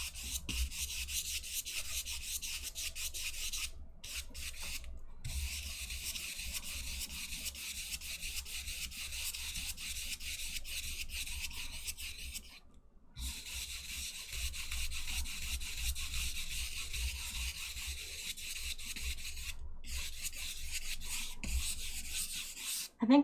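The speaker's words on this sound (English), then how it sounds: "Get those good paintbrush sounds." Paintbrush bristles sweep and rub steadily across canvas while a sky is painted, a continuous close scratchy rasp with a few brief pauses between strokes.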